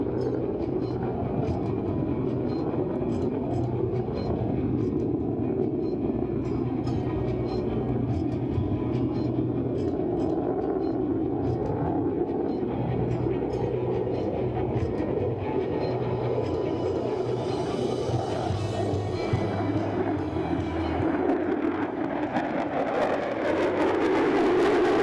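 An F-22 Raptor fighter jet flying a high-G demonstration turn roars continuously in a dense, steady rumble that holds for the whole stretch, with a hissing upper edge building toward the end.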